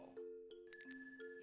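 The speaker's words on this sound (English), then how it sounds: "Just hold the bell." A small hand bell rings during a live magic show in a theatre, several bright metallic dings in quick succession with sustained ringing tones, fairly quiet and heard alone.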